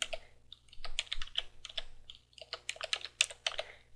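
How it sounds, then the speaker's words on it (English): Fingers type a passphrase on a computer keyboard, a close run of quick irregular key clicks in short bursts with brief pauses between. "go ahead and enter a passphrase of your choice"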